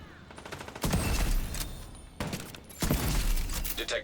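Bursts of gunfire ring out in a shooter video game, two loud clusters of rapid shots with a brief lull between them and no talking.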